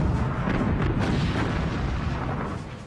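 Heavy battleship guns firing a salvo during the Bismarck's final battle, a deep rumbling boom that rolls on and fades, loud and dense with no talk over it.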